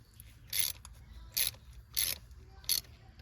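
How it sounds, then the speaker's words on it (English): A ratchet tightens a spark plug on a 2011-2014 Ford F150 5.0L V8, four short quiet bursts of rapid clicking spaced about evenly apart, close up, with faint background hum between them. "you can go ahead and put your ratchet back on and finish it."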